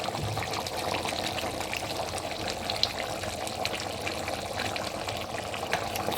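Water poured into a pot of Nigerian efo riro vegetable soup made with frozen spinach, a continuous close splashing pour lasting several seconds with no talk.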